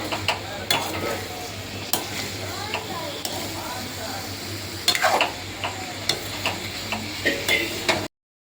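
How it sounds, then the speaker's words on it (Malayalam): Pickle is stirred in a hot pan with oil, producing close, crackly sizzling and scraping punctuated by sharp taps of the utensil against the pan. "നല്ലോണം മിക്സ് ചെയ്യാം."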